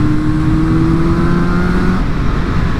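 A Yamaha RD350LC two-stroke motorcycle on its first ride, the engine droning steadily close by with a buzzy tone that shifts pitch as it pulls, then settles into a rougher, even running note.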